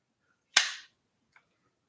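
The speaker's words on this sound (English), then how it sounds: "I still shoot my slingshot" A single sharp snap from a slingshot shot, close and loud, decays quickly, followed by a faint small knock about a second later.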